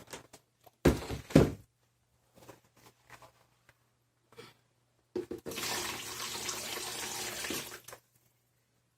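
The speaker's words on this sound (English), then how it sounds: "And then I'm going to put loads more water on it." A few clunks and a short splash, then water pours steadily onto coco coir for a few seconds before stopping, close by in a quiet room.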